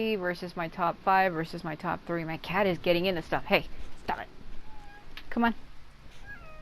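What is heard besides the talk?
cat meowing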